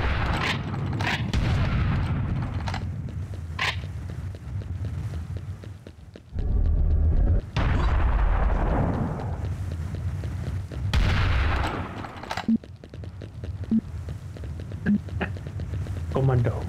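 Heavy cannon blasts from a co-op session of the shooter Serious Sam: The First Encounter, loud booming shots repeating over continuous battle noise, with a player drawing out a long shouted vowel and others talking around them.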